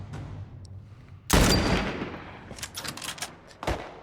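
One loud, close gunshot blast from The Last of Us Part 1 with a long, ringing decay, followed by a few faint clicks and smaller impacts.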